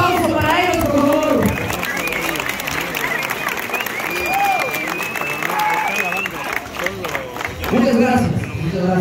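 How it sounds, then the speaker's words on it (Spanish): A crowd gathered at a community event in the town of San Pedro Cajonos applauds and cheers loudly, with whoops and voices rising over steady clapping that fills the whole stretch. "¡Fuerte el aplauso para ellos, por favor!"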